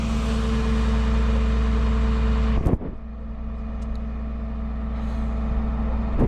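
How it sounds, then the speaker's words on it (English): A tow truck's engine idles loudly and close, then its air brakes release in one sharp hiss, after which the engine drones on more quietly. "here's this footage of the tow truck and my car."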